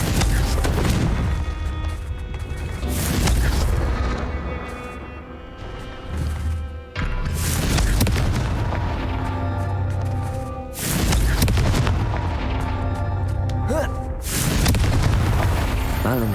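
Repeated booming Confringo spell blasts in the Hogwarts Legacy video game, several loud crashing explosions in succession over a dense musical and ambient game backdrop, close and forceful.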